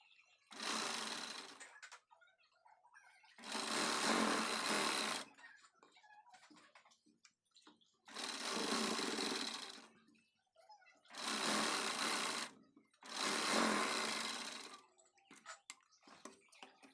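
An electric sewing machine stitches a paithani saree blouse sleeve in five steady whirring runs of one to two seconds each, separated by short quiet pauses with faint handling noise.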